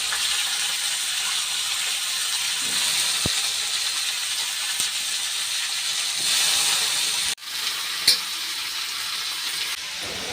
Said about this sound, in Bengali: বাঁধাকপি ও গাজর ঢেলে দেওয়া হলো।